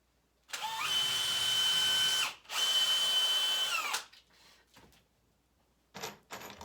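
A power drill drives two screws into the base of a 2x4 scrap-wood snowman: two loud, sustained high whirring bursts back to back, winding down at the end, followed by faint handling knocks and a short final burst.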